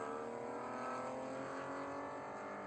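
Porsche Cup race cars run at speed around the Spring Mountain circuit, a steady faint engine drone with no distinct pass-by, heard from a distance with no voices.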